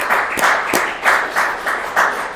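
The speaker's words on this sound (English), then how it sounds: "I'm gonna clap" A few people at a sales meeting clap together in a steady rhythm, close and loud, with several sharp individual claps on top of the group beat.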